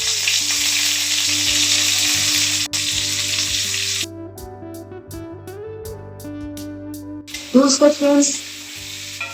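Boiled flat beans mixed with garlic paste and chilli paste hit hot oil in a pan, a loud steady sizzle for several seconds that drops away, then returns in bursts as the beans are stirred.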